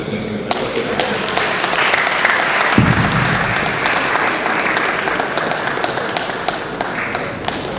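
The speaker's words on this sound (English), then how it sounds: "That was a very silent round of applause." A loud, sustained round of applause from a crowd fills a hall at a bar association law week event, a dense, continuous patter of many hands close by with a few sharper individual claps.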